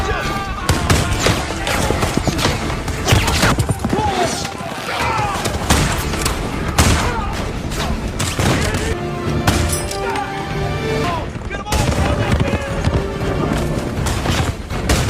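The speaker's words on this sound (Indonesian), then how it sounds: "warga Coast Creek yang bersembunyi di dalam parit pun keluar dari tanah dan menembaki para penjahat itu sebisanya" Gunfire from a cowboy film battle, with townspeople firing up from trenches at bandits: dense, rapid bursts of shots and crashes run continuously under a busy, loud action-scene mix with music and effects.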